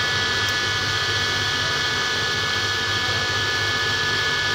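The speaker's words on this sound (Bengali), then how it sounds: "মোটর চালু হয়ে গেছে।" A 1-horsepower electric AC water pump motor with a fitted capacitor runs steadily, giving a loud, constant whirring hum and high whine with no change in pitch or level.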